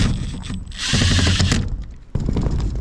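A power drill drives a screw through a polycarbonate roof sheet: a close, loud whirring burst that rises and holds, then stops, followed by a brief clatter and a second short burst.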